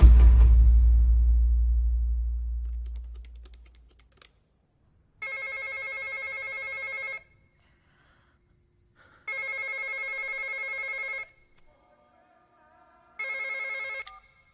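A telephone rings in a Hindi film scene: a low rumble fades out, then three separate bursts of a bright electronic ring sound in the quiet, each lasting about two seconds, with no talk.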